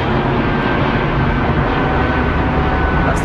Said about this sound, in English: That's the sound of next generation engines, cleaner for the environment.